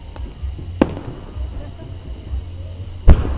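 Confetti and shooting-star fireworks at an amusement park show in Hot Springs, Arkansas, go off in two sharp distant pops about two seconds apart over a low murmur of outdoor crowd noise.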